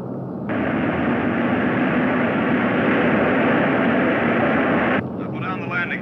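A piston-engined airplane in flight on a landing approach, banking to circle down, drones steadily and loud for about five seconds as a broad, constant roar that cuts off sharply near the end.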